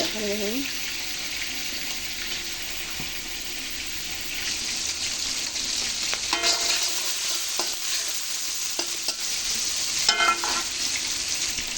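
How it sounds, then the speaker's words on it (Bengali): Onion and garlic sizzle steadily in hot oil for a Bengali mirka fish curry, a continuous frying hiss with bursts of stirring scrapes near the middle and end, a brief voice at the very start. "দিয়ে দিচ্ছি পেঁয়াজ রসুন"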